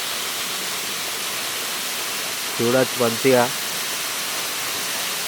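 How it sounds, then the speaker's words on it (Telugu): The Sabbitham waterfall near Peddapalli roars as a steady, broad rushing wash that fills the whole stretch, with someone speaking briefly over it partway through. "మంచిగా ఉంది వాటర్ ఫాల్స్, సూపర్ అంటే సూపర్."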